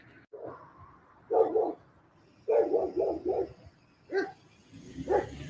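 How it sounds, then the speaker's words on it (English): A big dog barks outdoors at moderate distance, a few deep barks coming singly and in quick pairs with short pauses between them, and no talk. "It's a really big dog right there."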